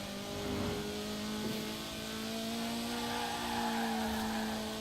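A stock-engined Datsun revs steadily in Forza Horizon 4, a loud, sustained in-game engine drone with a rising and falling pitch and no talk over it.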